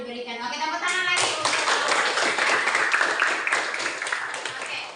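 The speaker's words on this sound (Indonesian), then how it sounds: "Oke, tepuk tangan lagi." A classroom bursts into applause, a dense, fairly close patter of many hands clapping in a rapid continuous rhythm after a brief moment of a voice speaking.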